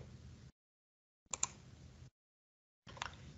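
A calculator's keys are pressed in short bursts of light tapping and clicking, close and faint, separated by stretches of silence.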